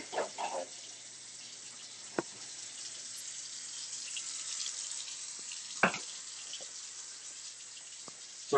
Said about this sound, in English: So go ahead and put in the water, hot water.